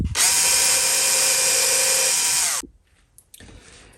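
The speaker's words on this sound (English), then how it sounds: "Hold it and drill a couple pilot holes." A loud, high-pitched power drill whines steadily for about two and a half seconds drilling pilot holes in wood for a coat rack, then stops, followed by a few faint clicks and handling noises.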